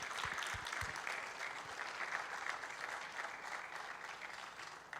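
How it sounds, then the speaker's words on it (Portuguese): Sustained applause from an audience at a church conference workshop, steady and fairly distant, filling the whole stretch with a dense hiss of clapping hands. "Você pode acolher o Carlito com palmas, por favor."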